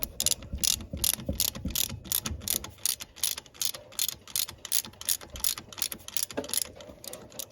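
Ratchet wrench tightening bolts on a 2003 Honda Foreman S 4x4 four wheeler, a steady run of rapid close clicks in quick bursts with brief pauses, loud and without talk.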